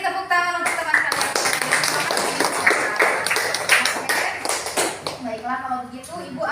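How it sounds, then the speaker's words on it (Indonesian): A class of students claps for a classmate, a dense burst of applause in a room with a voice speaking over it. "Oke, beri tepuk tangan untuk teman kalian."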